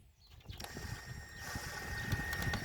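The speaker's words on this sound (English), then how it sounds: "So I got my screw gun and my screws." A cordless screw gun drives screws during the installation of a poultry water filter, giving short clicking, ratcheting bursts followed by a steady mechanical whir that builds over a couple of seconds.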